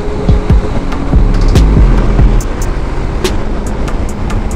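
Piaggio MP3 500 LT Sport three-wheeled scooter ridden at speed on an unfamiliar road, a steady loud engine drone with heavy wind rush and a few low thumps, no talking.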